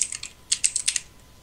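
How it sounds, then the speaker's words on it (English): Typing on a Razer BlackWidow Tournament Edition mechanical keyboard with Cherry MX Blue switches: crisp, loud clicky keystrokes in two quick bursts, up close with no talking. "I recently bought the Razer Black Widow Tournament Edition, and it's really noisy"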